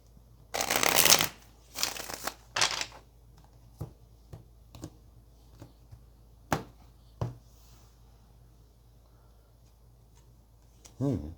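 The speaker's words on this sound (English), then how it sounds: "let's get one more shuffle" Tarot cards are shuffled in a few quick riffled bursts, followed by scattered taps and soft knocks as they are squared and handled up close.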